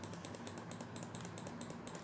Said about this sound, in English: my mouse clicking